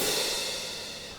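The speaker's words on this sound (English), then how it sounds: "I've got a sample of some orchestral hand cymbals here" A sustained, shimmering metallic wash of orchestral hand cymbals from a sample, ringing steadily and fading slightly, with no separate strikes audible.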